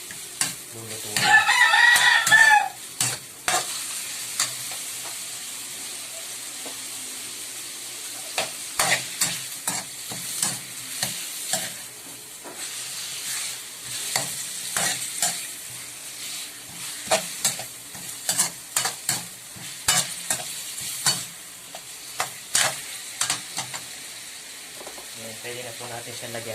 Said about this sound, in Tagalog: gigisa muna natin ang ating meat para lumabas yung oil niya